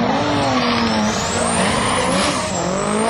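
Turbocharged Nissan S14 Sylvia with a stroked 2.2-liter SR20 engine and KAI T51R turbo at a drag meet, a loud sustained high-revving engine roar with a rising and falling pitch, close and continuous with no talking.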